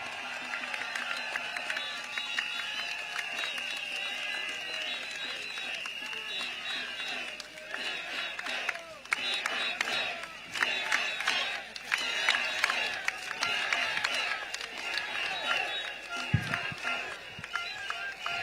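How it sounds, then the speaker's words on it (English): Crowd cheering at a political campaign rally in Singapore, a broad wash of voices and claps rising and swelling, with louder bursts in the second half and a brief sharp thump near the end. "Thank you for your cheers."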